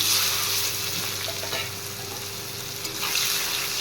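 Chopped onions fry in a pan of oil with cumin, bay leaves and whole garam masala, giving a steady, dense sizzle throughout with occasional light stirring and no speech.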